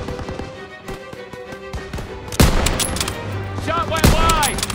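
Gunfire in Call of Duty WW2 during a World War II battle, rapid rifle and machine-gun shots cracking in quick rhythmic bursts that grow louder and denser midway, with chaotic combat noise and shouting voices mixed in.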